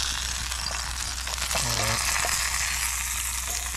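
A whole fish wrapped in banana leaf fries on a coconut farm, giving off a loud, steady sizzle and crackle throughout, with a brief voice-like sound partway through.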